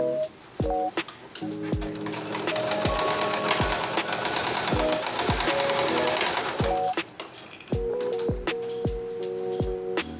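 A sewing machine stitches the side seams of a fabric table runner strip in fast, continuous bursts of rhythmic mechanical clatter, punctuated by short pauses and clicks as the fabric is repositioned.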